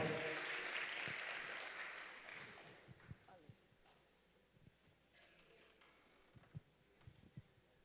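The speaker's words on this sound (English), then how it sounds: "And a bigger round of applause to our distinguished panelists." Audience applause for distinguished panelists at an agri-business investment forum in Jamaica, loud crowd clapping at first that thins and fades after a few seconds, leaving scattered individual claps and faint room noise.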